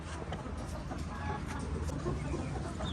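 Chickens cluck repeatedly amid a busy, steady background of farmyard noise, moderately close and continuous throughout.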